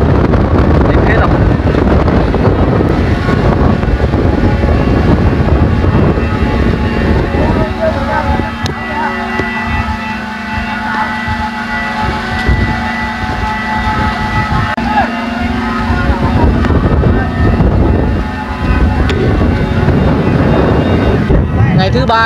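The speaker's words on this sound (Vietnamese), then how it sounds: "gió đều như vắt chanh luôn" Strong, steady wind roars across an open kite-flying field at Long Hưng, Biên Hòa during a storm, a loud continuous rush with mic buffeting and a faint droning hum, voices talking over it.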